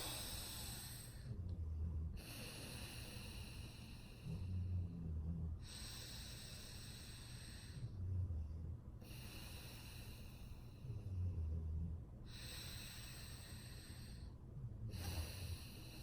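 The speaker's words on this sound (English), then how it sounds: "So you take a long, deep inhale in." Slow, deep breaths in and out for a breathwork exercise, each long airy inhale and exhale lasting a couple of seconds, repeating about four times in a steady rhythm with brief pauses between, close to the microphone and alone.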